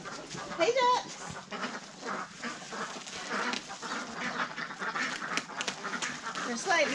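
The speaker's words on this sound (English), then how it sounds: "Hey ducks!" Ducks quack and call in a busy farmyard mix, with other animal noises and a person talking over them throughout.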